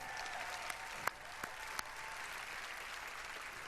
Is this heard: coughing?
no